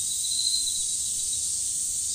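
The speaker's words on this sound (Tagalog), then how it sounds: "tumigil ang lahat ng kuliglig" Crickets chirp in a dense, continuous high trill at a steady level, with no voices or other sounds over it.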